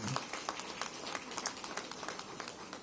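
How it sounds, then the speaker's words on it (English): A crowd at an outdoor civic workforce announcement applauds, a thin, distant patter of scattered claps holding steady for about three seconds. "give them a round of applause on today"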